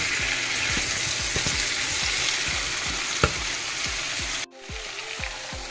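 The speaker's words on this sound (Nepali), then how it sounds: "सो मेरो चिकन चाहिँ यहाँ फ्राई हुँदैछ अनि यहाँ काउली फ्राई" Chicken and cauliflower fry in pans with a dense, loud sizzle and a few stirring clicks. Near the end the sizzle drops sharply and becomes quieter.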